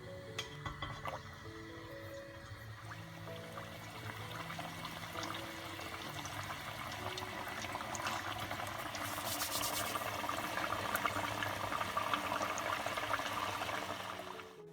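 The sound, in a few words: cannoli dough frying in hot oil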